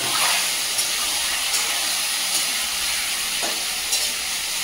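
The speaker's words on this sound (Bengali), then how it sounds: "এই একই তেলের মধ্যে এখানে লবণ, হলুদ আর সামান্য কাশ্মীরি লঙ্কা মিশিয়ে রেখেছিলাম, মাংসগুলো ভেজে নেব।" Meat frying in oil seasoned with salt, turmeric and Kashmiri chili gives a steady, close sizzle with a constant hiss and a few faint stirring scrapes, with no talk over it.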